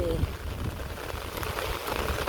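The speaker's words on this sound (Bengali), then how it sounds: "এই যে দেখেন বৃষ্টি কারে কই" Steady rain falls over a rural home beside rice paddies, a soft continuous patter filling the short stretch at moderate level.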